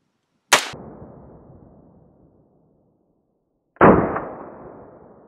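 Two sharp rifle gunshots crack out during a shooting drill, about three seconds apart, each followed by a long echoing tail that fades slowly into silence.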